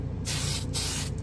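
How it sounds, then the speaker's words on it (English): Mr. Super Clear Matte hobby spray can hisses in two sharp, close bursts separated by a brief pause, with a quieter third puff starting at the end. "Oh, this spray's pretty good too."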